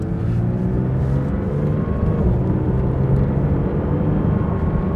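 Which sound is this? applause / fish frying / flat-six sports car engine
flat-six sports car engine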